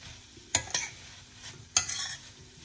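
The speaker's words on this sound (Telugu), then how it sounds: "సో సాసెస్ మొత్తం ఇలా చికెన్కి కోట్ అయ్యేలాగా కుక్ చేసుకోవాలి." Spicy garlic chicken stirred in a pan of sauce, two sharp scraping stir strokes over a steady low sizzle, close and otherwise quiet.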